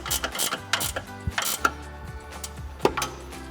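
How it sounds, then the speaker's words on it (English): A 13mm socket on an impact wrench tightens the rear bolt of Barricade rocker armor on a 2021-2026 Ford Bronco, giving a close series of short mechanical rattling bursts with clicks between them and no talk. "Tighten down our back bolt first."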